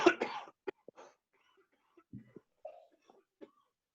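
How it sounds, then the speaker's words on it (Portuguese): One person coughs hard a few times up close, then coughs and clears their throat more quietly a few more times, with pauses between the bursts in an otherwise quiet room. "Eu tô tossindo tem 1 semana e meia essa porcaria"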